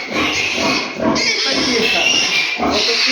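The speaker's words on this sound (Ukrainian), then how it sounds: "поросята вже готові, вже можна забирати" Several piglets of the large white breed grunting and squealing loudly up close, overlapping continuously, with a person talking underneath.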